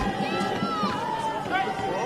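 Sydney United supporters in full cry at an NPL Men's NSW football match against St George FC: a steady outdoor crowd roar of shouting and chanting voices, dense and continuous, with rising calls standing out.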